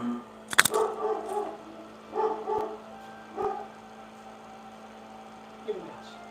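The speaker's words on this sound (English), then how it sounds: "There goes the dogs." A few short dog barks ring out, a couple close together then more spaced, over a steady electrical hum, with a final faint yip near the end.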